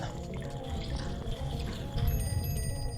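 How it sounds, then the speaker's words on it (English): Steady rushing water pours through a large pipe and drives a huge water wheel in a dungeon of the game The Legend of Zelda: Majora's Mask 3D, a continuous watery wash under a tonal game soundtrack with no talk. "It looks like it's turning because of the sheer force of that water coming through the pipe."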